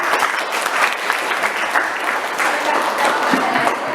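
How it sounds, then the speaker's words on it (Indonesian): Steady applause from a class during a school lesson fills the whole stretch, dense clapping at an even level with no pauses. "Bagus, tepuk tangan."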